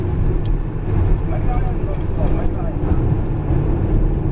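Alpine A110R sports car on a race track, its engine note a steady loud drone as it accelerates, with wind buffeting and an instructor talking over it.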